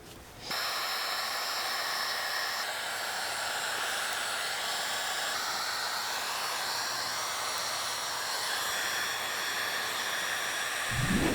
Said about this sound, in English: the last thing to do is just pulse heating all around. That way we secure the film